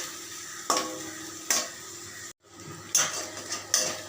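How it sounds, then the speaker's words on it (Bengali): Lote fish (Bombay duck) frying in a pan over low-medium flame, a quiet continuous sizzle punctuated by a few sharp metallic clinks of a utensil against the pan. "লোটে ফ্রাই চলছে লোটে ফ্রাই"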